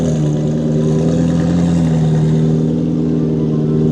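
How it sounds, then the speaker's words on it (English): A wrapped McLaren GT at a cars and coffee meet, its engine giving a loud, sustained deep mechanical drone with a steady low tone, close by and with no talk over it. "I think I called it the best sounding McLaren GT I've ever heard"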